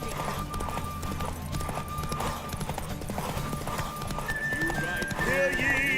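Horse hooves clatter in a galloping clip-clop during a derby race in Witcher 3, close and busy, with a whinny and a voice rising over the hoofbeats near the end.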